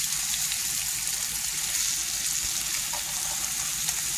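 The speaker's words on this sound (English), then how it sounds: "you can just keep frying like this" Stuffed chicken breast fries in a pan, giving a steady close hiss and sizzle with no break.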